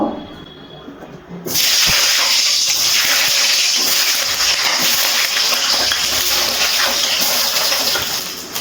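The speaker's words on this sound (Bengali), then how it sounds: "এবার এই তেলের মধ্যে লম্বা লম্বা করে কেটে রাখা আলুগুলো ভেজে নেব।" Long cut potato strips drop into well-heated oil and a loud, steady sizzling hiss erupts at once, carrying on evenly close by after a quiet start.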